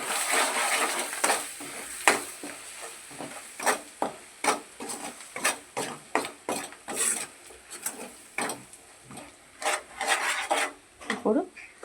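Fish curry mixture being stirred in a pan, a long run of rhythmic scraping and clattering spoon strokes against the metal, close and fairly loud, with no talk over it.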